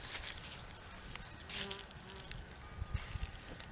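Honeybees being combined and shaken onto a hive give a low, faint buzzing hum under soft outdoor rustling and a few light bumps.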